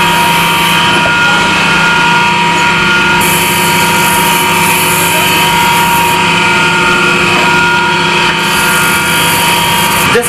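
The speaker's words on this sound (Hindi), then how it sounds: "इसको फिनिशिंग किया जाता है ग्राइंडर मशीन से। अब आप देखिए ग्राइंडर कैसे किया जाता है।" A grinder machine finishes a drilled metal part with a loud, continuous high-pitched whine and grinding screech that holds steady throughout, changing tone slightly as it bites into the workpiece.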